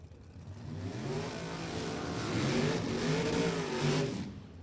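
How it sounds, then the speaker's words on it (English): A ProCharger-equipped drag racing car accelerates hard at Lebanon Valley Dragway during an NHRA event, its loud, continuous engine roar building steadily and staying strong throughout. "It's one of those loud cars you were supposed to tell me."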